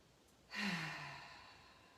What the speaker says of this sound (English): Deep inhale through the nose, exhale out the mouth.